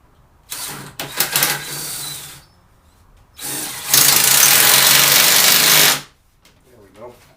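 A power drill drives a lag bolt into a solar collector frame in two bursts, a shorter whine followed by a longer, louder steady spin, close by, with brief talk between.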